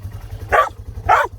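A dog gives two sharp, evenly spaced barks close by during an outing among rocks and puddles, each short and loud over a low rumbling background.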